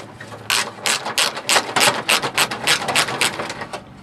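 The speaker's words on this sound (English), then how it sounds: "let's take that fastener off" A ratchet wrench backs out a 10 mm fastener from the fender of a 1997 Ford Contour, giving a quick run of sharp, evenly spaced clicks, close and loud with no voices.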